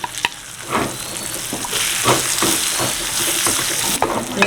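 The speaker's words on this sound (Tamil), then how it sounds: "நிறம் மாறினோடனே இதுக்குள்ள நாங்கள் இந்த முந்திய வத்தலை போடுறோம்." Raisins tossed into cashews frying in ghee in a pan for Tamil sakkarai pongal, giving a steady close sizzle with stirring scrapes throughout and no talk.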